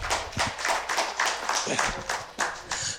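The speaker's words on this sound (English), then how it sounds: "give her a round of applause" Scattered clapping from a small audience, individual claps audible in loose bursts with a few louder peaks and voices mixed in.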